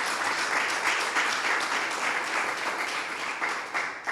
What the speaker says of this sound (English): She deserves our round of applause and our thank yous.